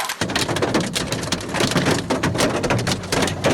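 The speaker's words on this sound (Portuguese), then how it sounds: "Várias cidades sofreram com vento forte e chuva de granizo." Hailstorm driven by strong wind in a Brazilian town, a dense, steady roar of pelting ice and gusts that stays loud and unbroken throughout, with no voices.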